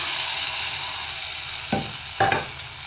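Mixed lentils tipped into a hot cumin and mustard seed tempering, a steady oily sizzle with two short clattering bursts as they hit the pan.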